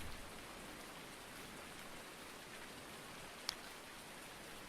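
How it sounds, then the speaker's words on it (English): Steady rain falls in Farming Simulator 19 on the New Woodshire map, a constant soft hiss throughout with one brief sharp tick partway through, no voices. "Well, let's go out in the rain here."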